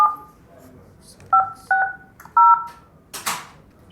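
Cell phone keypad tones beep as a number is dialed, a few separate touch-tone presses spaced out over a quiet background, followed by a brief rustling burst.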